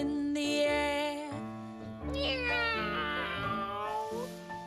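A cat meowing in long, drawn-out, tonal cries, two close and clear calls, the second rising and wavering like a caterwaul.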